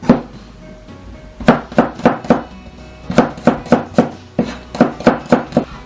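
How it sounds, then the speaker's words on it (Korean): A knife chops ginger finely on a cutting board in quick bursts of sharp, close knocks, about four to five strokes per burst, with short pauses between groups. "생강도 마찬가지로 잘게 썰어주세요."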